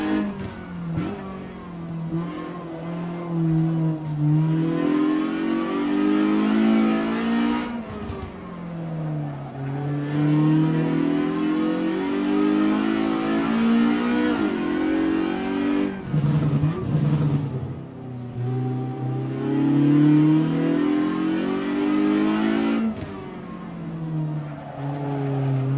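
Jide 1600 S race car racing at Ahvenisto in Assetto Corsa: a loud, close engine repeatedly revving up through the gears, dipping at each shift, with brief tire squeal between bursts of acceleration.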